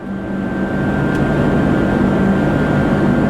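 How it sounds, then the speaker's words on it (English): Blower on a cotton harvester running again, a loud continuous low roar with a steady hum that holds constant throughout. "my blower's back"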